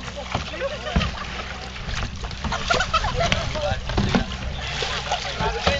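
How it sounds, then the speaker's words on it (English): Paddles splash and slosh through water as a group paddles a homemade raft in a race, with irregular close splashes and water noise while people talk nearby. "Right, let's paddle."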